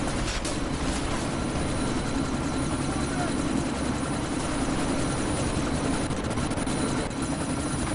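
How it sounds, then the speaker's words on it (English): A helicopter in the video game Deus Ex: Mankind Divided gives a loud, steady rotor and engine drone that fills the whole stretch without letup, with voices heard under it. "Miller, chopper's been grounded"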